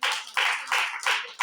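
A church congregation claps in rhythm after a prayer, a dense wash of many hands rising in four or five even bursts, loud and close, with no talking over it.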